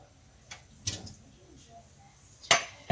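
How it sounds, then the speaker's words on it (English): Sliced beets dropped into the bottom of a glass canning jar during pickled egg preparation, giving a few soft, sparse clinks and knocks against the glass, close by, in a quiet kitchen. "I start out with putting some of the sliced beets in the bottom of the jar, just to cover the bottom"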